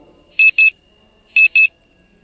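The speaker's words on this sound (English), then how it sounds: "Let us listen the sound of an alarm clock." An alarm clock sounds two pairs of short, shrill electronic beeps, the pairs about a second apart, clean and close against near silence.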